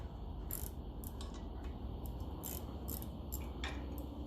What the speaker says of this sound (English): I find a ratchet spanner is very handy for the likes of these in the back here.